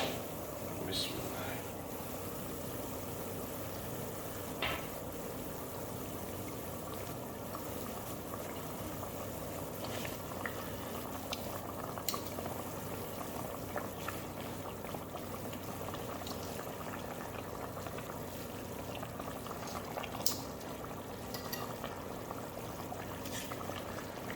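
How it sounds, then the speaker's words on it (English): Silver trevally pieces go into a simmering fish curry, a low bubbling sizzle that runs steadily throughout with scattered soft pops and clinks, close and fairly quiet, with no voices. "So now we will add the fish."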